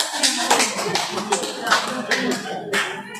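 A small group claps along during a school presentation on positive discipline culture, loose uneven hand claps and taps mixed with some chatter in a room, fairly close.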